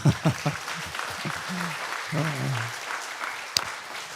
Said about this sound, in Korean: 이럴 때는 교회에서 박수 한번 해도 됩니다